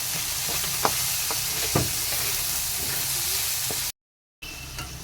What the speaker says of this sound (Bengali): তো এখন এটাকে ভালো করে আবার মিক্স করে দিচ্ছি।